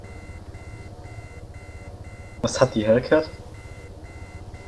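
Repeating electronic warning beep from a damaged helicopter in Arma 3, steady pulsed tones under a short burst of nearby speech.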